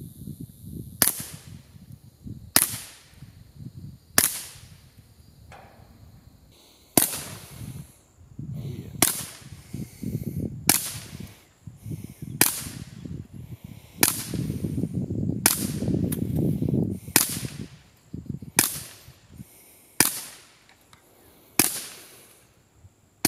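Suppressed shots from a Taurus TX22 .22 pistol fitted with a Thompson Machine suppressor, about fourteen sharp, dry cracks spaced a second or so apart over a low rumbling background, fairly close and moderately loud.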